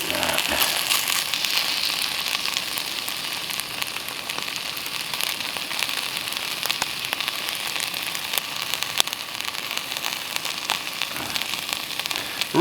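Steak sizzling on a small grill at a backpacking camp in a wilderness meadow, a loud, continuous crackling hiss with scattered pops throughout.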